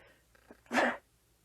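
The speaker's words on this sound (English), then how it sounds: "Sorry, I'll sneeze there." A single quick, close sneeze bursts out after a moment of near silence, preceded by a faint intake of breath.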